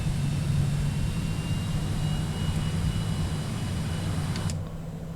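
Engines of a Cessna Citation X-750 idle while taxiing in a flight simulator game, producing a steady low jet hum and whine throughout that drops slightly in level near the end.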